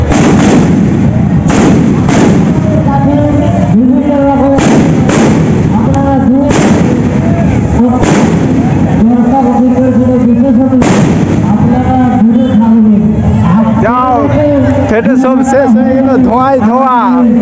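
Firecrackers packed into a burning Ravan effigy burst in a loud, irregular run of sharp bangs and booming thuds, some clustered close together, over steady crowd noise and nearby talking.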